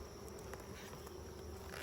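A faint, steady buzzing of honeybees hums in the background as a nucleus colony is moved into a brood box, continuous and low, with occasional soft knocks.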